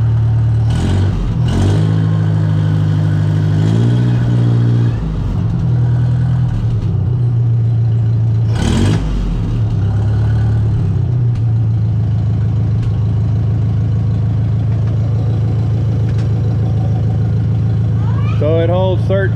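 An engine on a machine fitted with a new alternator revs up and then settles back to a steady idle, a close, low mechanical rumble running throughout with a few sharp throttle blips early on; someone talks over it.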